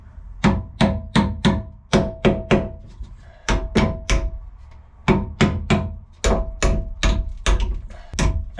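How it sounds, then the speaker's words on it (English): Hammer knocking bent bolts out while building a Divinycell quarter berth wall, a series of loud sharp metallic blows in quick bursts of three or four, close up, with short pauses between volleys. "See if I can't knock it out with a hammer."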